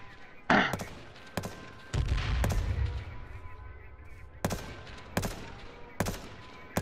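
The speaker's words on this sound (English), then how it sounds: "Sniped him. M40, baby." Sharp, loud single cracks from an M40 sniper rifle in the battle royale game H1Z1, several isolated shots spaced a second or so apart with short decaying tails against a quieter background.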